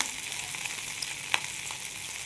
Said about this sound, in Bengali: তো ভালোভাবে কষিয়ে নিচ্ছি